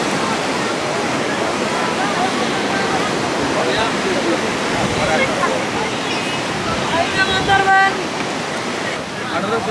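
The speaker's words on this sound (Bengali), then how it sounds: "কুয়াকাটা সমুদ্র সৈকত, বে অফ বেঙ্গল, বঙ্গোপসাগরের একটা তীর এই কুয়াকাটা সমুদ্র সৈকত।" Sea waves roll onto Kuakata beach on the Bay of Bengal in the evening, a loud, continuous surf roar, with crowd murmur and faint tonal sounds mixed in near the end.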